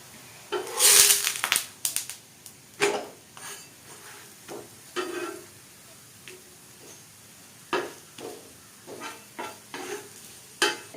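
Millet flour adai cooking in a little oil on a hot stone griddle, with intermittent scraping and stirring clatter over a faint sizzle, louder spatula scrapes recurring every second or two.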